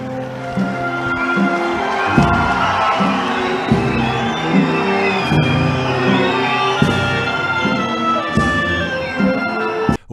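Crowd at a religious procession in Trani: dense, loud massed voices chant and applaud with rhythmic bursts, and whistling rises above the crowd.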